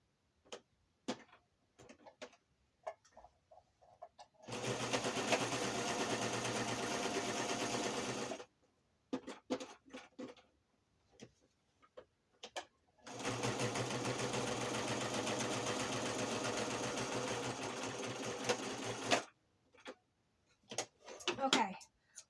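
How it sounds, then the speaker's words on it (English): Sewing machine stitching fabric scraps into a cover, running in two long steady bursts of several seconds each, separated by quiet stretches with faint handling clicks and brief talk. "Let me finish stitching."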